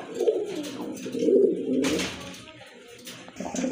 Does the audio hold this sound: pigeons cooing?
yes